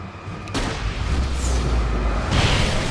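Gunfire in the video game Alan Wake, a heavy booming shot with rumbling low end sustained over about three seconds, loud and close, with a second burst near the end and no talk.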